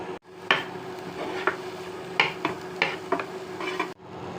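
Onions lightly frying in a pan without extra oil, heard as a faint, quiet sizzle under repeated spoon scrapes and clinks against the pan.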